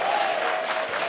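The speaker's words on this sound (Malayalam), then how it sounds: "ശക്തിയോടെ കൈയടിച്ച് അന്യഭാഷ ദൈവത്തെ സ്തുതിക്ക്." A church congregation claps loudly at a Pentecostal worship gathering, a brief dense burst of applause from many hands with a crowd murmur underneath.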